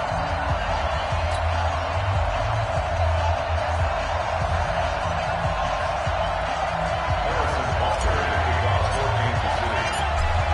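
A packed stadium crowd roars steadily before kickoff in a Madden NFL football game at Arrowhead, Kansas City Chiefs against the Minnesota Vikings, a dense continuous cheer with a commentator's voice over it.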